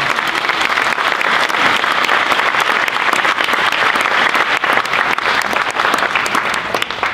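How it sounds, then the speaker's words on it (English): Families clap steadily at a grade 5 moving-up ceremony, a loud, continuous, close round of applause from a sizable crowd that holds its level for the whole stretch. "Can we have a round of applause for all of them?"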